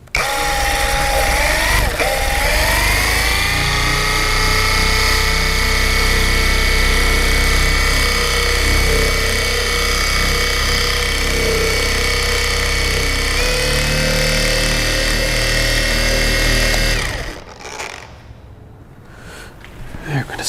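A power sander works over the painted body of a Chrysler Crossfire with sanding discs, giving a steady, loud whirring drone nearby that holds for about seventeen seconds before cutting off.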